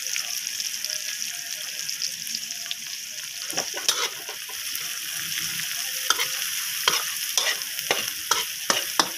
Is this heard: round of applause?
no